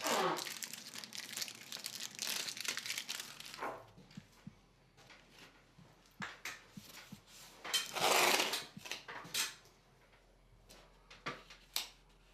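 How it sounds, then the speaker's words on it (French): Masking tape crinkles and tears as it is pulled off the roll and pressed along a ceiling corner while a bathroom is being painted. Rustling comes in bursts with soft taps, close by and fairly quiet. "Collez d'abord une ligne de ruban de masquage à quelques millimètres de l'angle"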